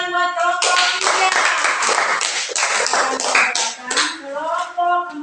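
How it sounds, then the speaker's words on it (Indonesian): Classroom applause for a student group after its discussion presentation: a few seconds of dense, close clapping, with a voice speaking briefly before it starts and again as it fades. "berikan tepuk tangan buat kelompok 3"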